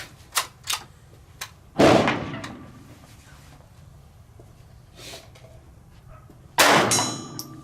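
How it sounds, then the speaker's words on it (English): Two loud, sharp gunshots from a pistol steadied on a pistol rest ring out a few seconds apart, each followed by a short echoing decay, with a few faint clicks of handling before the first shot. "If you're ready to shoot, you go ahead when you're comfortable."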